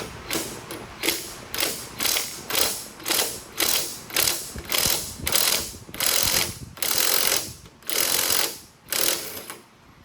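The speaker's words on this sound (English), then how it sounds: "So I hold it here, kind of keep it straight and centered, put the wrench on it, and just go to town." A wrench works the torque tube of a Porsche 928 in repeated short, loud mechanical bursts, about a dozen evenly spaced whirring rattles heard up close with no speech.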